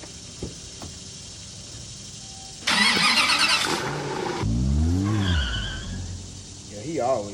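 Box truck pulling off and driving away, a loud engine surge with tire noise in the middle, then a rising engine tone as it moves off, with people talking around it.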